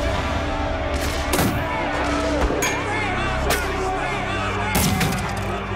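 Black-powder gunfire crashes out in several loud, separate shots during a reenactment of John Brown's 1859 Harpers Ferry raid, over a murmur of background noise.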